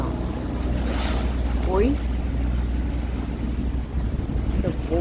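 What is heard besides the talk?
waves on the Oder river heard from a boat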